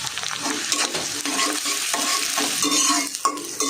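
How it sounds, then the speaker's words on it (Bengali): Onions frying in hot oil for biryani, a dense, loud sizzle broken by repeated stirring scrapes and brief pauses, close and steady throughout. "পেঁয়াজটা আমি একটু লাল লাল করে ভেজে নেব।"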